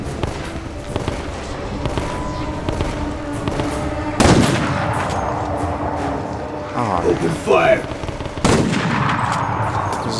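Bolt-action rifle shots in the video game Resident Evil: Operation Raccoon City, with a few sharp, loud reports spaced several seconds apart over ambient game noise and someone talking.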